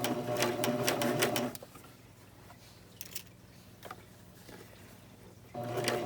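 A serger stitching a seam on a baby bandana bib, running in steady whirring bursts at the start and end with a quieter pause between, close up and without talk.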